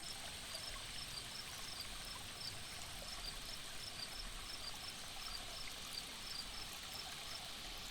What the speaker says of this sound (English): listening to water flowing silently, leaves bustling, a single insect chirping